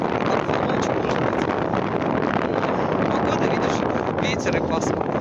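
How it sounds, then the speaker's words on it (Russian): Gusty wind blowing outdoors on an overcast day in the Moscow region, a steady loud rush buffeting the microphone throughout. "Ветер и пасмурно."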